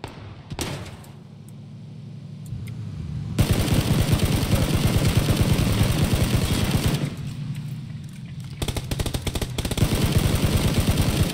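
Video game gunfire rattles in loud, rapid automatic bursts, with sustained volleys from about 3 to 7 seconds and again near the end, separated by a quieter stretch.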